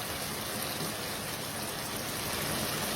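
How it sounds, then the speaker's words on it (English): Water is poured into a chicken mince curry in a pot, a steady, close hiss and rush that continues evenly without a break. "Now I'm adding water."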